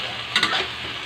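Sardines being mashed in simmering sauce in a pan, a short, close burst of scraping and squelching over a continuous soft sizzle.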